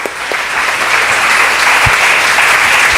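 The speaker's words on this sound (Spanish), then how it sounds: "Dale un aplauso fuerte a la palabra del Señor." Loud, dense applause from a church congregation swells quickly and holds steady, a close, full wash of many hands clapping with a few low thumps underneath.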